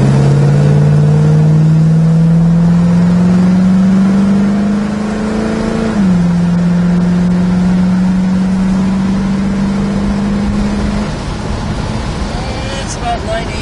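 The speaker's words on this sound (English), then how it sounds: "Car pulls real well, runs nice, smooth as can be." A 1967 Pontiac GTO engine pulls hard under acceleration at speed, a steady loud drone that climbs in pitch, dips briefly at a gear change, then climbs again before easing off near the end.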